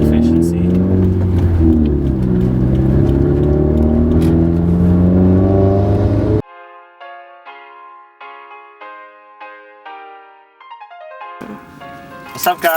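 A Stage 2 modded Subaru WRX engine revs and pulls hard while driving, a strong rising drone with a voice speaking over it, before cutting away to other sounds.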